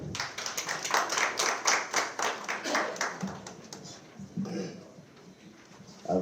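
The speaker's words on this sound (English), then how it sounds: "A big round of applause, leadership." Audience applause at the launch of an online multilingual proverbs dictionary, a burst of steady clapping from a crowd that thins out over several seconds, with a voice speaking briefly partway through.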